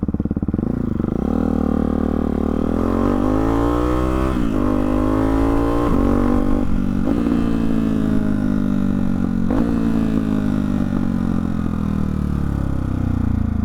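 A Hyper 698 S1 motorcycle exhaust revving loudly up close, engine pitch climbing in repeated sweeps as the throttle opens and eases, steady throaty drone throughout with no talking.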